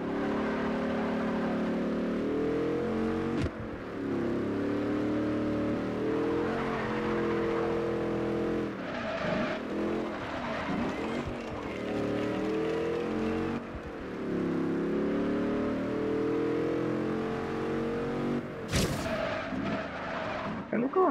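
A Maserati Ghibli engine runs steadily through a race in Forza Horizon 2, with continuous loud harmonic drone and shifting revs, a brief sharp burst near the end, and a voice talking over it.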